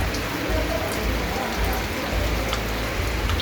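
Heavy rain pours steadily, a dense, loud, close hiss of drops hitting surfaces with no pauses.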